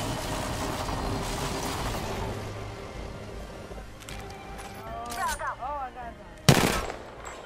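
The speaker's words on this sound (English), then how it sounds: "Listen up, I'm getting shot at." Gunfire in the video game Apex Legends, with rapid bursts of automatic shots, a crackling volley and one sharp loud report near the end, mixed with game effects and voices.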